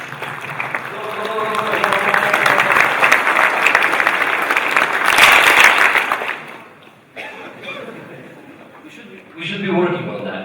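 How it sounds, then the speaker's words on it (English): Conference audience at the DevTalks Cluj main stage gives a dense burst of applause that swells and peaks, then stops abruptly, followed by someone speaking into the microphone. "We can applaud like this, just a little bit."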